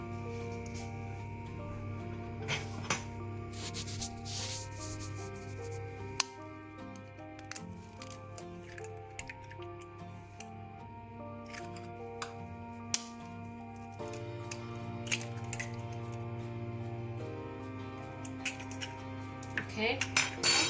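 Butter and eggs are hand-whisked in a bowl for low-carb oat cookies, giving quiet, continuous metallic clinking and scraping with occasional sharper taps against the bowl.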